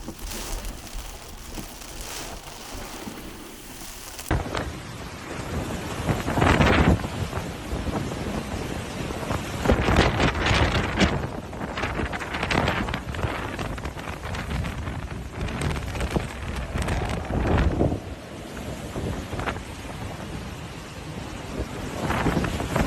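Hurricane Milton's hurricane-force winds in Florida, gusting up to 74 mph at Orlando International Airport, roar steadily as loud, broadband wind noise that buffets the microphone, with surging gusts throughout and no voices.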